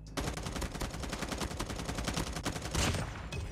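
Sustained automatic fire from a gold M4 rifle in Call of Duty Mobile, with rapid evenly spaced shots running almost without pause and a heavier burst near the end.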